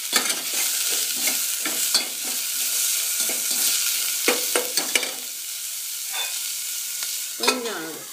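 Onions sautéing with salt in a pan while cooking lemon sambar, giving a steady close sizzle broken by repeated scraping strokes of a spoon against the pan.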